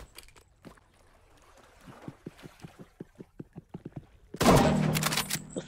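Sniper rifle shots in the Roblox game Rivals, heard as a run of short sharp cracks in quick succession, then one loud, full burst near the end that rings out for about a second.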